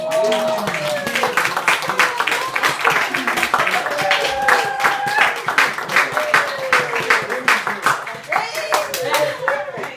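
A group of people clapping as a guest walks in at a casual drink-and-ink gathering, with uneven rhythmic claps, whoops and overlapping voices and chatter throughout.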